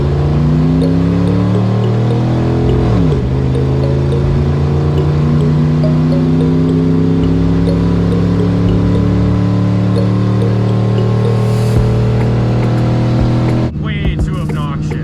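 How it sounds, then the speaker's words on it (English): A work truck with its catalytic converter removed drones loudly at full throttle on a highway, a steady rising engine roar heard from inside the cab, with a brief gear-change dip early and a sharp drop near the end. "I just want to do a full throttle pull and show you guys just how obnoxious this truck"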